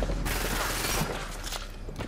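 Gunfire in the video game Hyperscape, a dense, steady burst of shots running through the whole stretch, fairly loud and busy with no talk over it.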